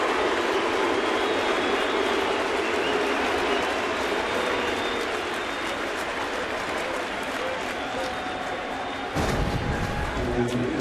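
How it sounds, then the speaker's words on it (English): Large stadium crowd at a Red Sox at Yankees baseball game in 2013 cheers steadily after a hit down the left field line, a broad sustained roar that holds throughout and swells briefly near the end. "Kevin Youkilis is going to hear his first real Uke cheer"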